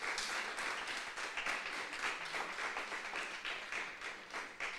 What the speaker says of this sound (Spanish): Démosle un aplauso al Espíritu Santo de Dios